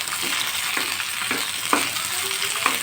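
Tomato, onion and green chillies sauté in hot oil for a chutney, a steady close sizzle with soft periodic stirring scrapes, no voices.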